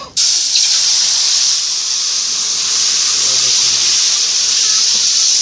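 Water hitting a hot pan of ghee with green chillies and okra bursts into a loud, steady sizzling hiss that begins abruptly and holds at close range.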